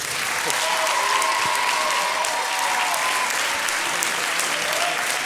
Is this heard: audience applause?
yes